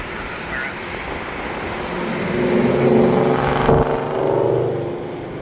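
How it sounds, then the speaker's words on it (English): A McDonnell Douglas MD-11 jet at Louisville airport passes with a broad roar that swells to a peak and then slowly fades, heard from a distance over outdoor background noise. "Got an MD-11 right there"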